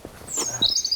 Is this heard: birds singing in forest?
yes